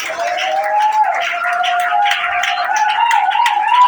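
A church congregation at an evening revival service cheers and shouts praise to the Lord, a steady dense wash of voices held loud and close throughout.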